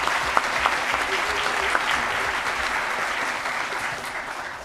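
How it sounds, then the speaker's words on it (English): At a formal school board meeting, the audience claps for a group of standing scouts, a full, even round of applause that begins to taper slightly near the end. "Will you stand so we can applaud y'all?"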